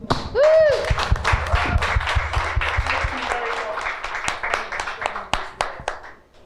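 A crowd at a panel event applauds and cheers, dense clapping with a whoop rising over it and then tapering into scattered claps while a host keeps speaking.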